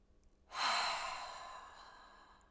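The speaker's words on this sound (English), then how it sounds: "just connecting with your breath" A single slow breath during guided meditation, a soft airy exhale that swells quickly and then fades gradually over a couple of seconds, close and quiet with no talking.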